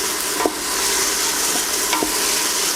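Onions frying in a pan, a loud continuous close sizzle with a few soft spoon scrapes as they are stirred.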